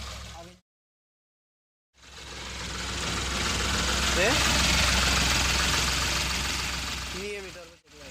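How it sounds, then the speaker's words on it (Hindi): Ashok Leyland Dost diesel engine, freshly overhauled with a timing belt, cranks briefly after a moment of silence, then settles into a steady rough idle with slight knocking, loud and close, with someone talking over it. "स्टार्ट हो गई गाड़ी।"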